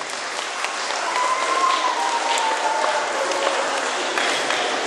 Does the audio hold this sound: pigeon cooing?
no